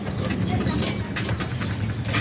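Racing pigeons coo softly while drinking water, low murmuring calls repeating under someone talking nearby, with occasional sharp clicks and rustles.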